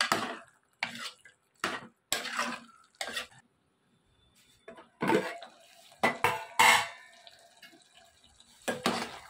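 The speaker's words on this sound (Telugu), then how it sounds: "ఈ విధంగా మటన్లో గోంగూర మొత్తం వేసేసుకుని బాగా మిక్స్ చేసుకోవాలి" A spoon stirs gongura leaves through mutton curry in a metal pan, scraping and clanking in short irregular strokes with brief pauses, close and clear with no talking.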